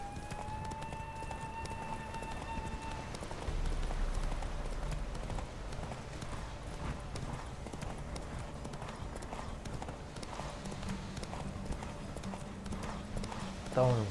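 Horse hooves clip-clopping steadily at a brisk pace in The Witcher 3, with a swampy game world around, under someone talking in Spanish and faint ambient music.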